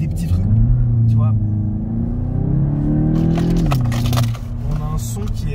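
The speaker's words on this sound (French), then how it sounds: "On a un son qui est vachement présent, mais de l'avant de la voiture. On n'a pas un son d'échappement, on a un son de moteur et de boîte à air" Volkswagen Golf engine and air box droning from the front of the car while driving, a steady mid-pitched hum that swells briefly then settles, with people talking over it.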